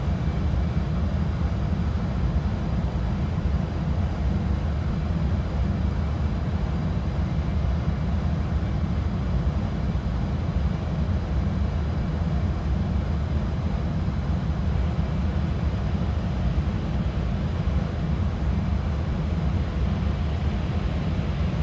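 Steady, dense roar of Concorde engines in flight in the X-Plane 12 flight simulator, a constant broadband rumble heavy in the low end that holds unchanged throughout with no voices.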